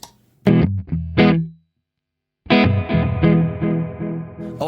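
An electric guitar played through an El Capistan tape echo pedal in single head mode rings out in short strummed bursts with trailing repeats, then a longer chord passage after a brief silence.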